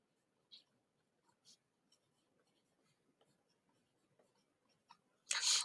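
A pen or pencil writes by hand during a second-grade math lesson, making faint, scattered scratches with a louder burst of scribbling at the end.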